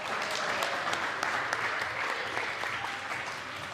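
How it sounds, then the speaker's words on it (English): Loud, sustained applause from athletes and spectators at a youth swimming qualifier, a dense wash of many hands clapping without pause across the whole stretch. "Give yourselves a round of applause."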